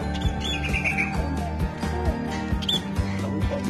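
A pet sparrow squawks close by in a rapid series of harsh, scratchy calls mixed with thin chirps, steady and fairly loud throughout.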